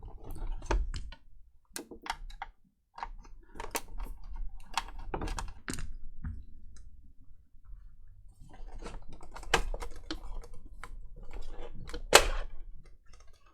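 Small clicks and light rattles from screws being taken out of the case of a Thrustmaster TS-XW racing wheel, scattered taps and tool sounds at close range, quiet and irregular, no speech.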